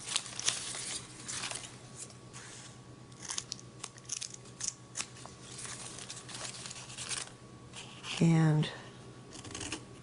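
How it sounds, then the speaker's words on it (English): Scissors snipping the edges of a folded paper star, several soft crisp cuts scattered among rustling paper, with one louder stretch of handling near the end and a person talking. "very carefully pull it pretty tight and then start cutting off these extra bits"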